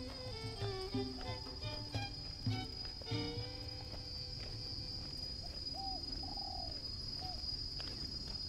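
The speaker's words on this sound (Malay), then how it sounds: "Nah, tu ada burung tekukur." Spotted doves coo faintly among other birdsong in a coastal coconut grove on Bintan in the Riau Islands, with a steady insect drone running throughout and no talking.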